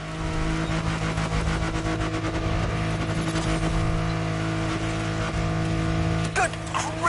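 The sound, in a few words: car driving at full speed in video game The Crew Motorfest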